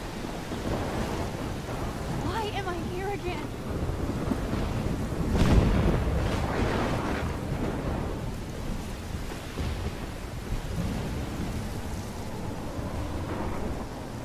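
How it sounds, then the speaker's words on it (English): Thunderstorm in the game Life is Strange: steady rain hisses throughout while a loud thunder crack bursts around the middle and rolls off, with lighter rumbles later under continuous wind and downpour. "I wonder if anybody else knows about the storm."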